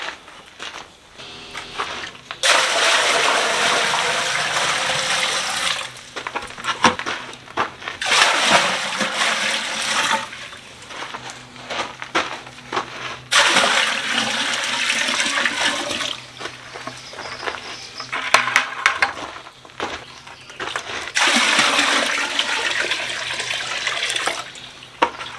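Water gushes in strong surges into a blacksmith's slack quench tub, about four loud rushing bursts separated by short quieter gaps, with no talking.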